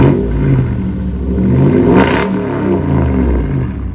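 A 2003 Toyota 4Runner V8 with straight-pipe exhaust revs loudly and steadily, a deep rumbling roar that swells and holds close by without any talking.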